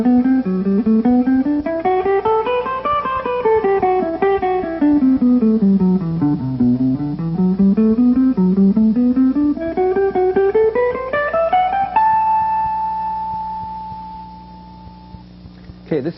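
A guitar plays a slow A Dorian mode exercise, with single notes stepping up and down the scale in an even rhythm before ending on a sustained note that fades out.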